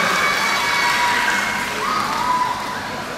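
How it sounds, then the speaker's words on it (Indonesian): Audience applause at the closing of the TLM Indonesia cooperative annual meeting with the governor of NTT, a dense continuous wash of clapping and light cheering from a large crowd. "Tepuk tangan dulu buat seluruh TLM Indonesia"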